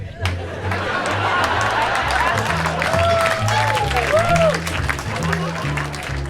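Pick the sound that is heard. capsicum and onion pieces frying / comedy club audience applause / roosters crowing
comedy club audience applause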